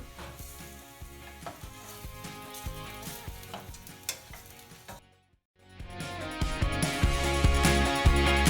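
Garlic and onion frying in oil in a pan on the stove, a close, continuous sizzle with scraping stir strokes, a brief drop to near silence, then a louder, fuller sizzle.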